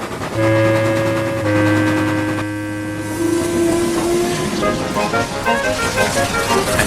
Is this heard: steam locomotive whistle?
yes